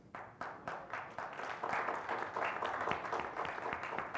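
Audience clapping at a training camp gathering, a scattered start of claps swelling into steady, fairly dense applause from a crowd, moderately near and continuing throughout without talk.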